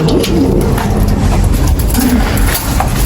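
Ispir breed pigeons coo in low, rolling calls over a loud, constant rushing background noise that persists throughout.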